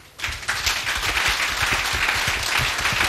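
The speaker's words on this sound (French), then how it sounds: "Est-ce que vous me permettez de demander encore plus d'applaudissements pour ces braves dames?" A crowd bursts into applause after a quiet start, dense clapping holding steady and fairly close for a few seconds.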